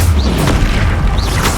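A fire spell cast in the Hogwarts Legacy video game lands as a deep, booming burst. Two short whooshing swells ride on top of the rumble, loud and alone with no talk.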